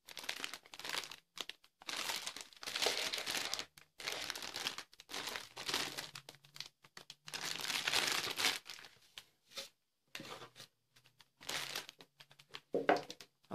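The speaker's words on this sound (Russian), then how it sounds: "Большой пакет непосредственно с литниками." Large plastic bag holding the sprues of a 1:48 Ju 88A-14 German bomber model kit, crinkling and crunching in bursts with short pauses, close and fairly loud.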